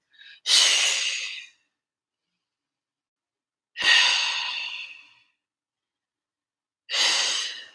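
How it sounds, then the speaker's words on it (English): Three long, deep exhalations during a home Pilates stretch, each a breathy rush lasting about a second, separated by quiet pauses, close and clear with no talking. "And 3 deep breaths here to exhale."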